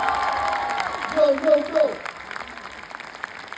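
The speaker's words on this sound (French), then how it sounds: "si on peut faire un tonnerre d'applaudissements" Audience at a film premiere in a Kinepolis cinema claps and cheers, steady applause under a few short chanted shouts from the crowd.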